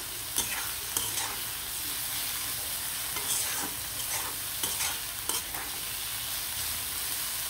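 Radish greens frying in a pan with garlic and onion, sizzling steadily while a spatula scrapes and stirs in repeated sharp strokes; no talking.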